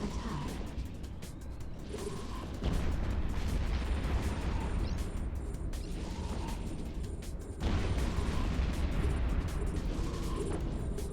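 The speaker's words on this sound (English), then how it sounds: "all of the explosions right now" Explosions during a space battle in the Eve Echoes game, with two heavy, booming bursts several seconds apart over a continuous low rumble of battle noise.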